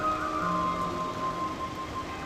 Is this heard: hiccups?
no